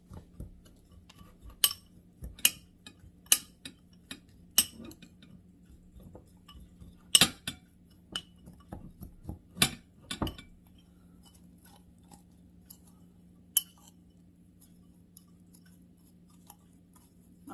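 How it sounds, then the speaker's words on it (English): Baked apple filling is stirred in a bowl, with a spoon scraping and tapping against the bowl in sharp, irregular clinks that come quickly at first and then grow sparser, heard up close in a quiet room. "Let me mix all this up."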